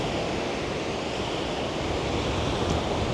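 Strong wind roars across the microphone outdoors, a dense, unbroken rush of noise that stays loud and steady the whole time.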